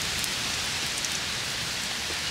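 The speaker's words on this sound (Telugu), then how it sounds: "వర్షం వచ్చేసింది" Steady rain pours onto the roof of a village house, a dense, even hiss throughout with scattered nearer drops pattering on the surface.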